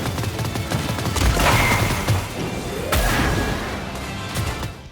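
Bouncing beauties detonating across the field in Rocket Arena: a rapid cluster of blasts and pops building into a loud barrage, with a second burst about halfway through before fading.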